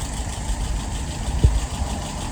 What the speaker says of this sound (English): Idle RPM is about 690. I like about 700 of these.